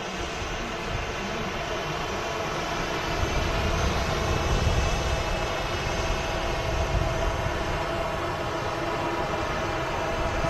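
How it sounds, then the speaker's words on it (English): Ryanair Boeing 737 taxiing past the control tower at Manchester Airport, a steady broadband jet engine whine and rumble that swells slightly midway, heard from a distance with no talking. "As the Ryanair 737 taxis past the RVP control tower."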